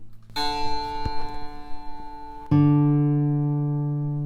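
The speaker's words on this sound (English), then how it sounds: "we're going to hear the sound of the 4th string" A plucked fourth guitar string rings out with a steady tone during tuning, then a second pluck at midpoint sounds louder and slowly decays, sustaining to the end.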